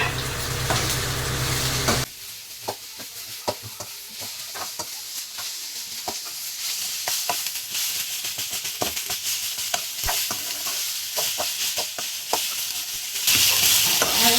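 Peeled garlic cloves hit a hot pan of oil for tomato chutney, bursting into a loud steady sizzle with scattered stirring scrapes throughout, the frying noise swelling sharply near the end.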